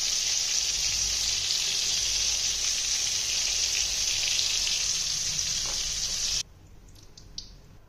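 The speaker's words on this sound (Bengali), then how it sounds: "এই যে পটলটাকে আমি হালকা লাল করে ভাজছি।" Pieces of pointed gourd fry in hot oil in a pan, giving a loud, continuous close-up sizzle that stops abruptly, leaving a quieter room with a few faint clinks.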